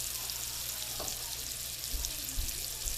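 Sweet potato slices pan frying, a steady close sizzle with a couple of soft low knocks from the pan.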